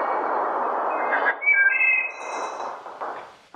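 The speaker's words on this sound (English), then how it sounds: "As he came over the hill, he heard the song of a wood thrush." A wood thrush sings in June woodland near Walden, its clear flutelike phrases rising briefly above a steady wash of background noise, moderately near and alone with no voices.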